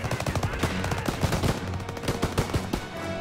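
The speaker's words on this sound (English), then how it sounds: "Open fire! Someone get on the MG!" Dense automatic machine-gun fire in a Call of Duty WWII battle scene, loud rapid bursts of shots crackling one after another over a busy backdrop of explosions and combat noise, no voices.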